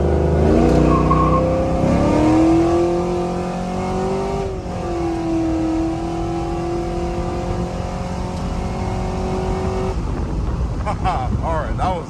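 Cammed GMC Sierra pickup truck with an automatic transmission and 3400 stall converter launches and accelerates, its loud engine rising steadily in pitch as it pulls hard for about ten seconds before easing off, heard from inside the cab.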